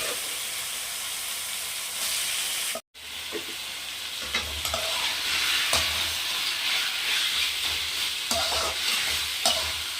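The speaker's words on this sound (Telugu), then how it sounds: "ఇది మనము ఫ్రై చేసేటప్పుడు మీడియం టు లో ఫ్లేమ్లో పెట్టుకొని చేసామనుకోండి బాగా ఫ్రై అవుతుంది" Marinated chicken frying in a pan for chicken fry gives a close, continuous sizzle, with stirring and scraping clatter after a brief cut to silence.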